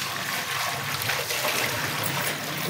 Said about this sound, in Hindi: अभी पानी डाल रहे हैं।